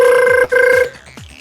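A loud, tonal electronic ring comes through a microphone in two bursts separated by a brief gap, then gives way to quieter, fainter chirps.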